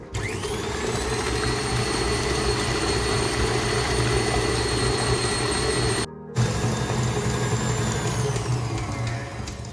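An electric mixer runs at maximum speed, beating eggs, sugar and vanilla sugar for a layer cake batter: a loud, continuous motor whine close by, with one brief drop in the middle before it roars back up.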